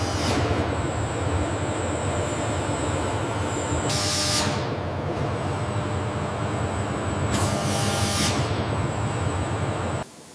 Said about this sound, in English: The completed train enters the testing bay